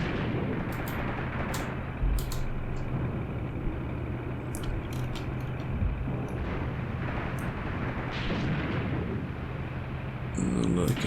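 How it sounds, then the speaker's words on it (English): Distant tank cannon shots aimed at a half-track in the Graviteam Tactics wargame, several dull booms scattered over a steady rumbling engine bed, moderately loud and spaced irregularly. "we'll spend the last 25 seconds watching our tanks trying to kill this half-track"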